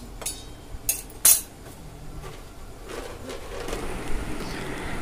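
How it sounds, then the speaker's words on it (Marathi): Roasted green chillies are scraped from a hot pan onto a plate, giving a few sharp metallic clinks and scrapes early on, then a softer steady rustle of kitchen activity with no talk. "मिरच्या छान भाजल्या गेलेल्या आहेत, आता ह्या आपण प्लेटमध्ये काढून घेऊया।"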